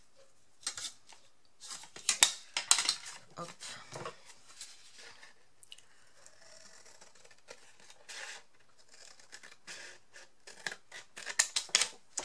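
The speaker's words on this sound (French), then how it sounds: "Je vais tirer un petit trait et je vais découper au ciseau." Scissors snipping through paper for a scrapbook decorated box, a string of sharp, close cuts in uneven bursts, with quiet French speech in between.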